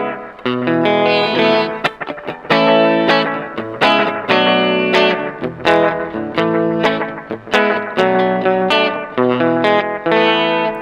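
Electric guitar played through an 8Note Chrono Tap delay pedal on Channel A, loud distorted chords and picked notes with repeating echo trails and a spacious reverb-like tail, no talking.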